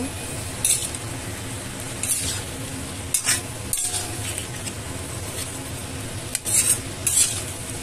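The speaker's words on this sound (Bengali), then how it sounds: "আলু আর ফুলকপিটা দিয়ে আমি খুব ভালো করে মশলার সাথে মিক্স করে দেবো।" Potato and cauliflower pieces being stirred with spices in a pan for a Bengali koi fish curry, a spoon scraping and clinking against the metal in repeated bursts over a steady low sizzle, close and fairly loud with no talking.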